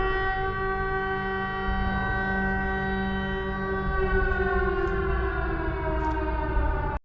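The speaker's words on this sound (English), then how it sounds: "there are even sirens heralding the impending descent into terror a couple times" A wailing civil-defense-style siren from the horror film Until Dawn, a loud sustained harmonic tone that rises slightly in pitch and holds steady for several seconds before cutting off abruptly.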